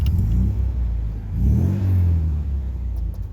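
A 1968 MGB's engine revs up close and loud, its low rumble rising in a swell, dropping back, then climbing again before easing into a steady drone.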